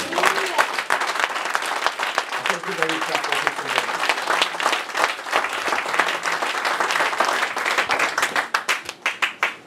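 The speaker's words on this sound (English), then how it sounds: "go ahead and give that a clap of it, somebody." A church congregation claps and applauds in a dense, sustained burst of many hands, with voices calling out through it and the clapping thinning into separate claps toward the end.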